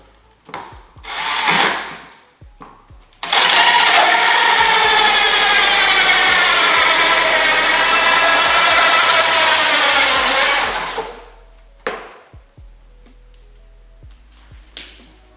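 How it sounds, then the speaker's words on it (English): A power drill bores a hole into the interior panel of a Tesla Model 3, starting with a couple of brief bursts, then running loud and steady for about eight seconds before stopping, followed by a few faint clicks and handling noises. "First hole drilled."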